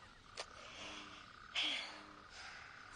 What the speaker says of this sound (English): So, frogs. What's so bad about frogs?